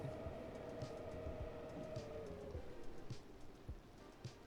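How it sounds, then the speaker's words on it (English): A subway train rumbling past underneath a city in the video game Cities: Skylines II, a faint, steady low rumble with soft rhythmic clacks, heard alone without talk. "we've just passed the subway underneath"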